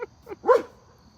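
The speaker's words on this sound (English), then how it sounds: "I have no idea what he's barking at." Dog barking indoors, one short yip followed by a louder single bark, close and sharp against a quiet room.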